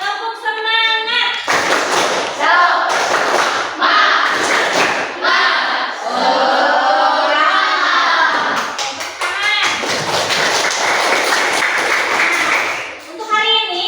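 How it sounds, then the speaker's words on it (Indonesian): Schoolchildren in an elementary classroom shout a rhythmic 'tepuk semangat' clapping chant together, loud and close, with bursts of patterned claps between their group voices and a few louder chanted phrases. "Tepuk semangat!"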